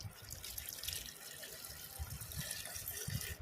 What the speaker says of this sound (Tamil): இதுக்கு தேவையான அளவு தண்ணி சேர்த்துருவோம்